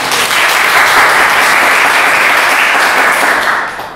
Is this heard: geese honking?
no